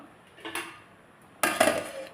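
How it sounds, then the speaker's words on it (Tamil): Two metallic clinks as a lid is set onto a pot of simmering tamarind curry, a light tap then a louder clatter, close by in a quiet room. "ஒரு மூடி போட்டுருவோம்."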